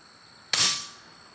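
Single Umarex Notos G2 air rifle shot ringing off a distant steel target, a sharp crack followed by a brief fading ding, alone in a quiet outdoor setting.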